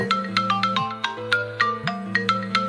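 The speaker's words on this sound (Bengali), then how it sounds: "পাশ থেকে হঠাৎ একটা ফোনের রিংটোন বেজে উঠল।" A mobile phone ringtone plays a bright, repeating electronic melody over a sustained tonal backing, loud and close, with no voices.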